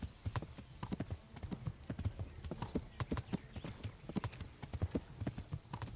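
A horse gallops in the medieval video game Kingdom Come: Deliverance, its hooves pounding in a fast, steady rhythm of thuds throughout.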